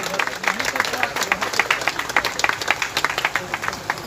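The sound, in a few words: applause, clapping to welcome guests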